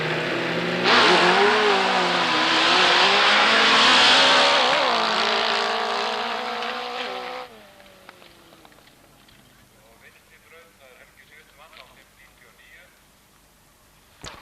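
Sand drag racing vehicles at a 1984 sand drag event in Glerárdal launching a run, a loud roaring engine surge for several seconds that cuts off and fades into distance, with an announcer speaking.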